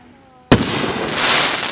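Fireworks burst outdoors in West Virginia, a sharp loud bang followed by a crackling, hissing shower that lingers for over a second.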